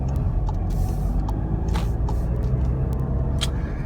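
A 2015 Volkswagen Golf Sportwagen TDI diesel drives along a road, its low steady engine and road rumble heard from inside the cabin, with faint brief clicks and ticks over the drone.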